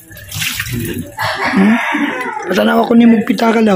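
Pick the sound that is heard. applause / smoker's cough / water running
water running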